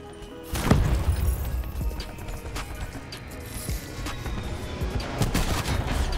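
Gunfire in Call of Duty: Black Ops 4: scattered sharp shots and short bursts, some close and some more distant, popping over a steady background rumble of a multiplayer match, with no voices.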